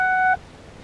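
A single electronic beep from a Ford GEM module in diagnostic mode, a steady two-tone pitch lasting about a third of a second, then quiet.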